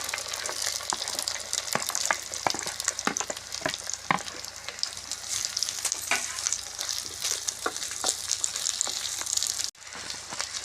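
Onions sizzle and fry steadily in a hot pan for goat head curry, a dense continuous crackle with occasional stirring scrapes, close and loud without any talking.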